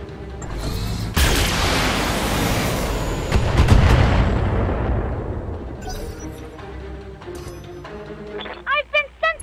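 Turret fire in the BattleTech mech game, with rapid weapon blasts and a heavy rumbling barrage that swells and fades over several seconds, followed by short electronic alert beeps near the end.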